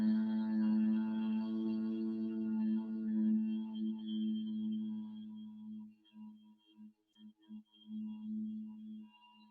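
A low, steady hummed tone imitating a buzzing bee during a pranayama breathing exercise, sustained smoothly at first, then breaking into short, faltering pulses before resuming.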